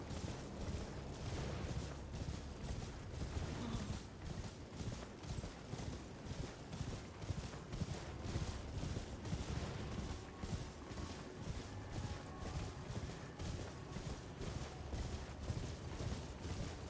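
Steady, rapid hoofbeats of a galloping horse in Elden Ring pound continuously and evenly close by, with no talking.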